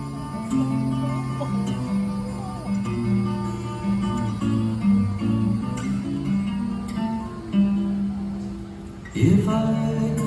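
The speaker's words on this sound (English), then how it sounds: "what you're going to hear right now is the original demo of this song" Original demo recording of a song, with sustained low tones and a steady musical bed playing at moderate volume for about ten seconds, with no talking.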